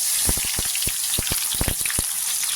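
Sliced onions fry in hot oil in a kadhai on a gas stove, a loud crackling sizzle broken by a rapid run of sharp stirring taps and knocks, with no talking.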